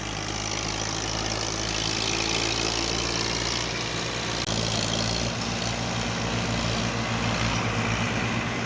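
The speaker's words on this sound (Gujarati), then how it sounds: "ધીમો છે અવાજ બદલી ગયો ટ્રેક્ટરનો" Tractor engine labouring in mud on a farm, a continuous loud low diesel drone with a slight shift in tone midway.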